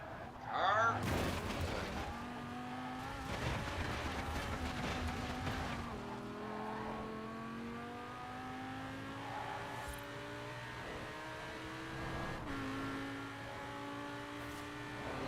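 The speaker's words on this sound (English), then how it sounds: "Car." Engine of a Mini Cooper racing in Forza Horizon 4, revving and shifting through the gears with a clear rising pitch, steady and fairly close, with a voice talking over it.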